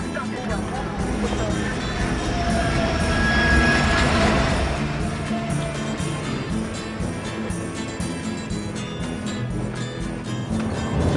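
Trans-Siberian Express train rolling along its tracks, a steady low rumble and rattle of the carriage running throughout, with a voice speaking over it.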